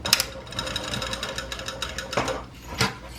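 Sewing machine running along the seam of a small fabric pencil case, a steady close mechanical whir with rapid stitch ticks and a couple of louder bursts as the needle speeds up.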